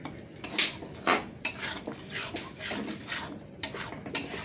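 Spoon scraping and clinking against a pan as fried cumin and coriander powder are stirred over low heat into a spice mix for a village-style boal fish curry, with several distinct metallic strokes, close and fairly loud.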